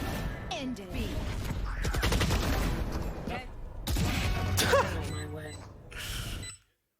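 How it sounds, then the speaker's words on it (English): Gunfire and a headshot in a Valorant esports match between Sentinels and NRG: sharp, dense bursts of shots and impact clatter over a busy game mix, with voices in the background, ending abruptly. "All he sees is the gun barrel, and he gets a headshot."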